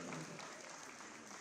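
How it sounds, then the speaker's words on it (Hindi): Audience applause at a public cultural event in Lucknow, a dense steady wash of many hands clapping, somewhat distant and moderate in level, lasting only a moment. "स्नेह और सम्मान से बड़ी तालियां होनी चाहिए"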